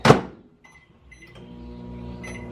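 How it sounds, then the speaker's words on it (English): A microwave door shuts with a thud, a couple of beeps follow, then the oven starts up with a low steady hum while cooking spaghetti squash. "Just put her in the microwave."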